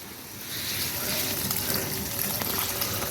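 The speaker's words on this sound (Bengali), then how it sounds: "পোলাপান আজকে আখে পানি দিচ্ছে" Children watering sugarcane plants at home, water pouring and splashing in a steady, loud gush that runs continuously throughout.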